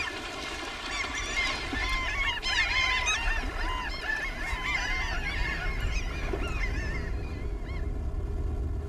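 Along the Guaporé river in the Amazon, many birds call at once, a dense chorus of honking, goose-like cries overlapping continuously at a steady loudness.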